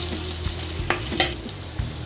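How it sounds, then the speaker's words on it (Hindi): Green chilies fry in oil in a pan while being stirred for aloo kofte, a close continuous sizzle broken by scraping spoon strokes and a few sharp clinks. "अब हरी मिर्च डाल रही हूँ। थोड़ा इनको भून लेंगे।"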